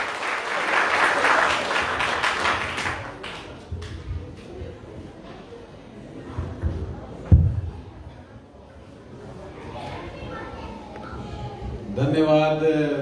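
An audience at a 2022 music competition at the Vishnu Laxmi Narayan temple in Savusavu claps to welcome a professor. The dense applause is loudest at the start, thins out over several seconds, and then gives way to someone talking.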